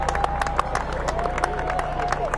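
A large crowd of baseball fans lines the Hall of Fame induction parade route in Cooperstown, New York, a steady murmur of chatter with scattered claps and cheers mixed in at moderate distance.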